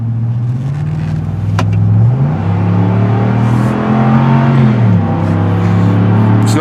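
A pickup truck accelerates hard on a road near a traffic circle, its engine droning loud and close and rising in pitch through two gear pulls with a brief dip between them.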